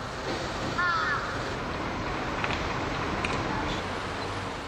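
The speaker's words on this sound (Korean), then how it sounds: "냄새를 맡고 달려드는 까마귀 떼에 시민들은 공포를 느낄 정도다." A flock of crows gathers around food waste in a city street, with a short burst of cawing early on against a steady background wash of outdoor noise.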